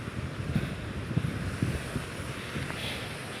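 Steady rushing water of a swollen river current after Typhoon Christine, a broad continuous wash mixed with wind buffeting against the microphone, faint low bumps underneath.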